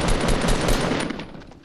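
Rapid automatic gunfire from a Fortnite match rattles out in a dense, loud, continuous burst that trails off slightly at the end.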